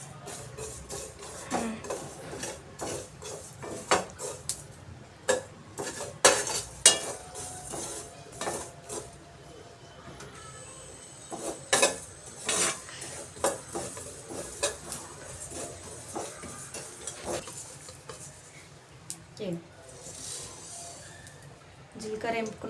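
Cumin and coriander seeds roasting in a pan, with repeated clinks and scrapes of a utensil stirring against the metal at an uneven pace and a quiet background in between.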